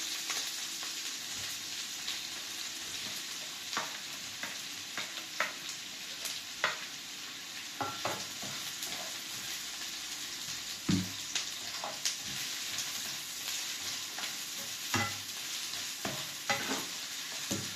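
Onions fry in a pan with a steady, fairly quiet sizzle and occasional scraping taps of stirring throughout, no voices present.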